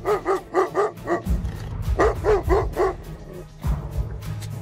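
Caucasian shepherd guard dogs bark outdoors in loud, rhythmic bursts of deep barks in two runs of about five each, with a final bark and a low wind-like rumble underneath.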